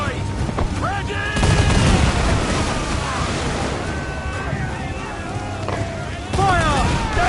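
Ship cannons boom in a broadside from a sailing vessel at sea in Assassin's Creed Black Flag, heavy blasts rising over surf and wind with shouting voices.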